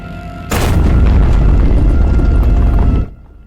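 A force field generator explodes in Space Quest 3D, a 3D remake of the Space Quest 3 game. The blast is a sudden, loud, rumbling boom that roars for about two and a half seconds, then cuts off abruptly.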